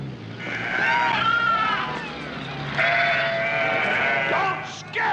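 Sheep bleat repeatedly at close range on an open, unfenced range in a 1960s comedy film, the wavering cries overlapping in a loud flock chorus with background noise beneath.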